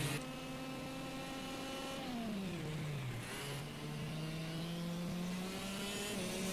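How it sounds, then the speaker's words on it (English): A race car engine bogs down through a corner, its loud drone sliding lower in pitch and then recovering into a steady pull. It is heard alone, with no voices. "Definitely sounds like that car is bogging down on that corner."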